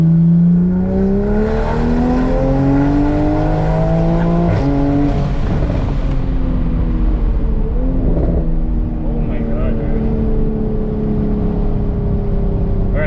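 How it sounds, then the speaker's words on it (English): A tuned Toyota Supra engine revs hard through rising gear pulls, its pitch climbing and dropping with a whirring turbo note, loud and close. "I hear turbo noises."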